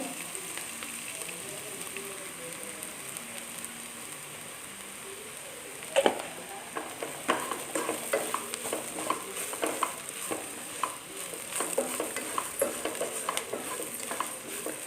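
Chilli and ground coriander sauté in a pan for a Kerala chicken dish, a steady low sizzle with scattered scraping and clicking stirs growing busier partway through, close and without speech.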